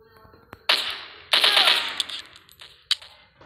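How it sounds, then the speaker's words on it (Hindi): A gun in a PUBG-style mobile shooter, Cover Strike, fires a few separate heavy, shotgun-like blasts with short gaps between them, close and punchy. "शॉर्ट गन की तरह चलाने में इस गन को अलग ही मजा है"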